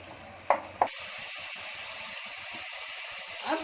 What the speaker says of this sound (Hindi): अच्छे से मैंने 5 मिनट भून ली फास्ट गैस पर